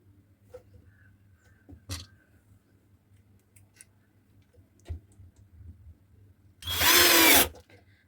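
Screws are driven in while a 2-way speaker box is assembled: a few faint isolated clicks, then one loud, close burst of a power driver whirring for under a second near the end, with no talk.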